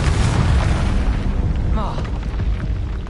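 Confringo spell explosion in the video game Hogwarts Legacy, a loud deep rumbling blast that rolls on throughout amid dense game effects.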